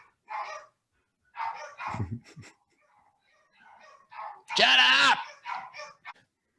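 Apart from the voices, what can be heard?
dogs barking in the background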